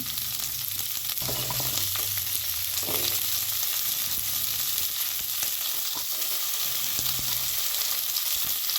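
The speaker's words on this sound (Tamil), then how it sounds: "வெங்காயம் பூண்டு தக்காளி கறி லீஃப் இதெல்லாம் போட்டு வதக்கிக்கலாம்" Onion, garlic, tomato and curry leaves sauté in a pan for a homemade egg gravy, sizzling loudly and steadily with occasional stirring scrapes, close up and without speech.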